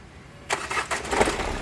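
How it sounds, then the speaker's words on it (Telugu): A 2014 Nissan Terrano XV engine cranks and catches after a short quiet pause, then runs with a rough, uneven mechanical roar close by. "ఒక్కసారి ఇంజన్ స్టార్ట్ చేయి"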